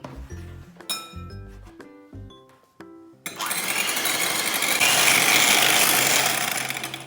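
Two eggs being beaten in a bowl for gluten-free cupcake batter: a few light clinks and taps against the bowl, then a loud, steady whirring rush of beating that runs unbroken for several seconds.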